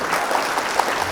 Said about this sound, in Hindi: तो आइए हम तालियों से इस्तकबाल करें मोहम्मद शुएब अकरम साहब का